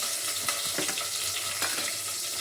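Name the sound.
sautéing ground spice paste in oil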